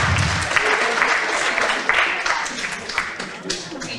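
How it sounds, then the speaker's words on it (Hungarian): An audience at an entrepreneurs' market event in Mezőtúr applauds a prize winner, a loud, dense clapping that runs throughout and slowly thins toward the end. "Tapsoljuk meg Szilviát"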